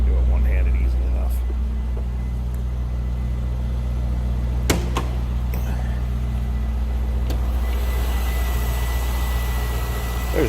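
A 2003 Chevrolet Corvette convertible's stock 5.7-liter LS1 V8 idles with its hood open, a steady, deep, even rumble held close and loud throughout, with a couple of brief clicks on top.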